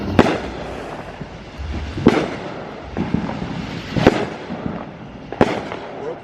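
Fireworks bursting over a 4th of July weekend, four sharp booming pops spaced about two seconds apart, with crackle and rumble trailing between them at moderate distance.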